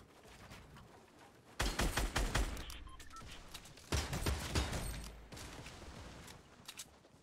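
Gunfire crackles in a Fortnite Battle Royale match, with several bursts of rapid shots and mechanical clatter sounding faintly against a low background hum.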